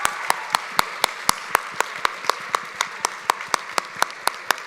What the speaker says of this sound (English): Can we please give our students a round of applause?